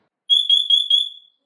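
A Siterwell smoke and carbon monoxide alarm gives one short, loud, piercing electronic chirp lasting about a second, pulsing several times within it, heard close and alone against silence.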